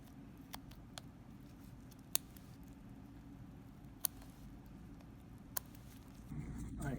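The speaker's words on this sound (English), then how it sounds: "So now I'm going to cut into the cervix." Scissors snip into a cervix during a dissection of reproductive tissue: a handful of faint, sharp clicks spaced irregularly over a quiet, low background hum.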